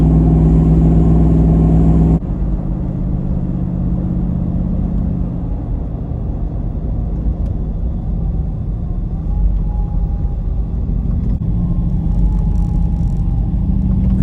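A Hemi V8 engine swapped into a Jeep JK rumbles steadily while driving, a low continuous exhaust drone with mild rises in revs.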